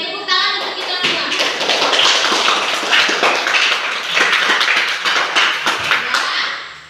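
Classroom applause from a group of students, a dense burst of many hands clapping together that starts abruptly, holds steady for several seconds, then fades out.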